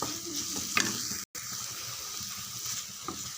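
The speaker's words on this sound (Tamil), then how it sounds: "2 தக்காளி நார்மல் சைஸு, நல்லா ஒரு 3 நிமிஷம் வதங்கட்டும்." Two normal-sized tomatoes sauté in a pan for chutney, a soft steady sizzle with occasional stirring scrapes and a brief cutout midway.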